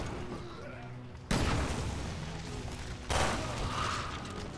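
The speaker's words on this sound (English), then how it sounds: "That is a big waste of shotgun ammunition." In Resident Evil Revelations 2 Raid Mode, two loud shotgun blasts go off about two seconds apart, each a sharp boom that decays over a dense game soundscape.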